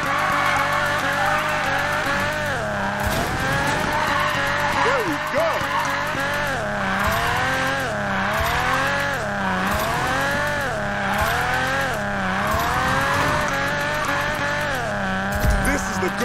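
Car drifting in the video game Need for Speed Payback, with a revving engine rising and falling and tires squealing steadily through linked turns, loud and continuous.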